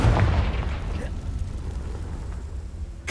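A fire spell blast from the video game Hogwarts Legacy bursts out loudly at the start, then a low rumble fades away, and a second sharp hit lands near the end.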